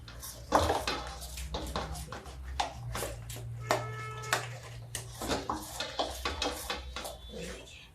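Spoon or utensil clinking against a bowl while garam masala is stirred into pumpkin pakora batter, a steady run of close scraping and tapping strokes over a low background hum.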